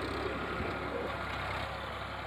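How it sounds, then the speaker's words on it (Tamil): A Valtra 3-cylinder 50 HP tractor with a 3300 cc water-cooled engine idles steadily, a low, even rumble heard close and alone. "இது வந்து ஒரு 3-சிலிண்டர் இன்ஜின், 50 HP டிராக்டர்"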